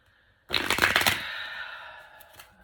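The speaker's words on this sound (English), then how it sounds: "I'm gonna have to just shuffle" A quick riffle of tarot cards shuffled close by, a burst of crisp flutters lasting about half a second, then a fading rustle as the deck settles.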